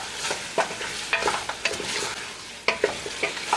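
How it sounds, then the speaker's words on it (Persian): Lamb fries with onion and garlic for Afghan dopiaza, a bright, crackling sizzle close up, with frequent stirring scrapes and clatters in an irregular rhythm and no voices. "همراه پیاز سیر خوب سرخش میکنم"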